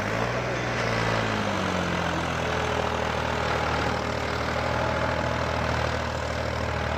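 A turbocharged tractor engine runs with a steady, close diesel drone and a shifting low tone near the start, continuous and loud throughout with no voices over it.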